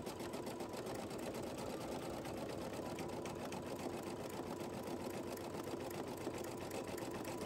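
A single-needle embroidery machine stitches lace holes into glitter canvas vinyl for basketball shoe charms, giving a steady, rapid mechanical whirring and clatter that runs loud and unbroken throughout, with no voices.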